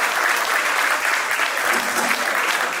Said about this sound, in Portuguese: Un fuerte aplauso para él que acaba de llegar, por favor.